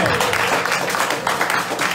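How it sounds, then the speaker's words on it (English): A crowd applauding steadily at a fundraising event in Columbus, Ohio, dense clapping filling the room for a couple of seconds with a few voices mixed in. "Round of applause."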